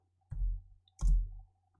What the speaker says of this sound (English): Now we press enter on the keyboard.